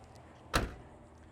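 A single heavy door on a 1970 Chevrolet Monte Carlo shuts with one short, solid thunk, fairly close and alone against a quiet background.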